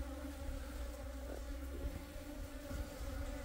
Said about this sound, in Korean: 우리가 말하는 땅벌입니다.